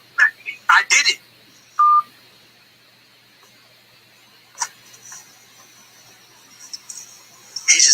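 Telephone keypad tones beep several times in quick bursts, followed by a lone steady tone and scattered later beeps as a phone call ends, with faint talk in the background.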